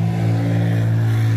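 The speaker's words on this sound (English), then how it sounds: "Man, the cars are so noisy." A noisy car passing outside, heard as a steady low engine drone with a strong rumbling hum, loud and continuous throughout with no talking.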